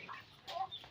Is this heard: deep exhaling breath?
no